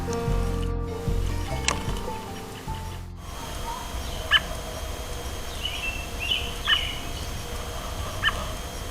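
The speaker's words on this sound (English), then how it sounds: "I think this chatty robin might be a female." A female American robin calls from a bird pool with several short, sharp chirps spread out over low background noise, after a brief burst of other sound.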